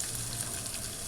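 Chopped onion frying with cumin and mustard seeds in a spoonful of hot oil in a kadhai, giving a steady, soft sizzle that runs evenly throughout with no talking.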